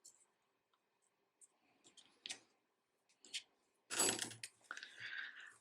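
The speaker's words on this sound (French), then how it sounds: "je coupe le fil" Scissors snip crochet yarn at close range, a few quiet clicks and a sharper cut near the end, followed by a brief rustle of the thread.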